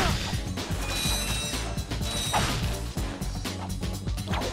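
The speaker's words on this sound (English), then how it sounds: "Press square, and Ratchet will attach his wrench to the bolt. Now spin the analog stick to screw the bolt down" Ratchet turns a bolt with his wrench in the Ratchet & Clank video game, making a continuous clattering ratchet-and-gear whir that churns loudly for several seconds.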